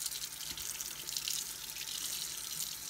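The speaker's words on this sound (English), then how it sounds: "You'll probably hear a lot of water sound since the camera's right next to the sink" Hot water from a tap runs into a sink right next to the microphone, a loud, steady, hissing splash that fills the whole stretch with no talking.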